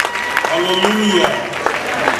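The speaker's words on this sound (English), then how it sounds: "Why don't you clap for Aboki for Christ?" Applause from a church worship audience at a comedy show, a crowd clapping and cheering steadily while a voice rings out over it with sung or shouted tones.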